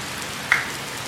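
Heavy rain pours down outdoors as a steady, uniform hiss of falling water, with one brief brighter splash or patter near the middle and no voices.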